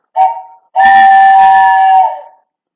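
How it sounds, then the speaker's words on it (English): A train whistle sounds twice, a short toot followed by a long, loud, steady blast that fades out, with nothing else around it. "A train whistle pierces the silence."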